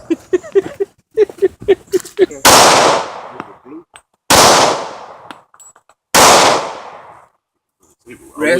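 Three loud, sharp gunshots from a scoped gun fired at a ball on a family farm, each with a long decaying echo, with people talking between the shots.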